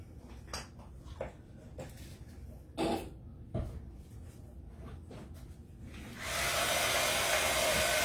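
Hair dryer blowing on a freshly painted fall decor piece, a steady loud rushing whoosh starting partway through and continuing to the end, after scattered soft knocks and household clatter.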